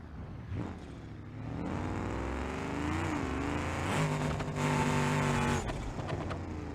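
A car engine revving in BeamNG.drive, a Barstow revival project: the pitch climbs and sweeps up and down in smooth rising waves, growing louder toward the middle and holding a strained high whine before easing off, with no voices.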